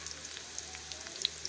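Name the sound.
onions, black pepper and cloves frying in a pan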